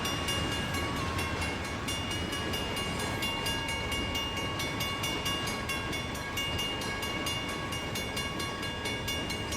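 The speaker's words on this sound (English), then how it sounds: "A cold train from Erie Lackawanna." An Erie Lackawanna train rolls steadily past at close range, a continuous rumble with faint rhythmic clicking and high tonal ringing, like a crossing bell, running throughout.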